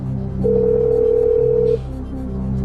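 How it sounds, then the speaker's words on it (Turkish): A telephone rings once with a steady, clear electronic tone on the Turkish quiz show Who Wants to Be a Millionaire, lasting just over a second against a low background hum. "Çalıyor Erdem Aksakal'ın telefonu."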